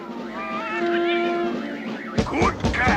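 A cartoon cat gives a drawn-out, wavering meow, then a second pair of shorter, sharper meows follows after a brief pause, loud and close.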